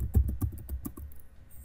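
Fingers tap out a quick burst of keystrokes on a computer keyboard during a JavaScript coding lesson, about a dozen close, crisp clicks in an uneven rhythm, then quiet.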